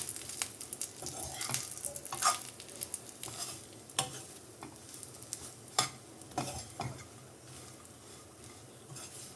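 Fried potatoes for aloo fry being stirred together with a spice powder made with dried red chillies, giving repeated scraping and clinking strokes against the pan over a steady soft sizzle, with no talking.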